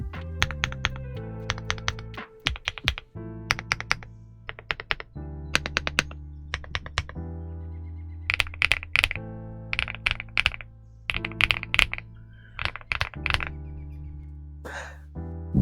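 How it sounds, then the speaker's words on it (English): Typing on a MechLands Vibe99 1800 gasket-mount mechanical keyboard, rapid clusters of crisp close clacks with deeper thocky spacebar-like hits, played in bursts with short pauses, no voices. "That is a very nice sounding keyboard."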